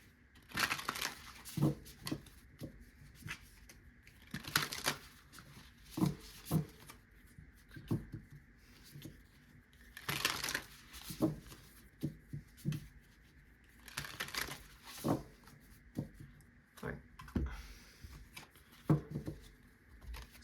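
Soft riffling and flicking of tarot cards in repeated short bursts, close by, with quiet gaps between shuffles.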